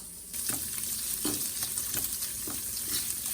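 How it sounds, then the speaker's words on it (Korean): Instant rice is stir-fried in a pan for a big batch of kimchi fried rice: a steady, close sizzle with rhythmic scraping strokes of the spatula, no talking. "햇반을 먼저 볶아야지."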